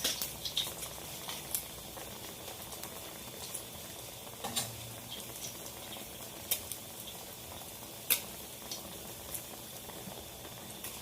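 Crabs simmer in coconut milk in a pot, giving a quiet, continuous bubbling with scattered soft pops and clicks.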